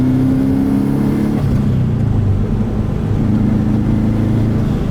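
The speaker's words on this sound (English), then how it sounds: "I love just half throttle and quarter throttle in this car around into boost." A turbocharged Subaru engine pulls steadily at part throttle into boost, a close, sustained low drone with a slight rise in pitch, with no talking.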